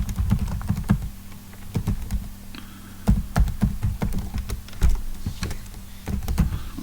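Keys clatter on a computer keyboard in irregular bursts of close, crisp taps and thumps, with short pauses between words, no talk.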